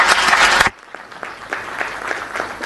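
Audience applause at an Africa internet economy conference session rings out loudly for under a second, then cuts off abruptly, leaving a few faint scattered claps over quiet room noise.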